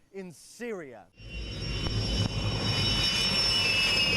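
Russian military jets at an air base, a loud sustained engine roar with a high whine that builds after a brief spoken phrase, filling the rest of the clip.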